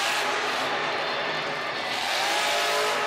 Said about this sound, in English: Nice slap wheelie using the power of that Captain's Curse truck.